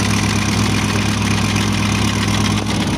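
Volkswagen Transporter van engine idling at normal operating temperature, a loud steady low hum with constant mechanical rumble, close and unbroken, with no talk.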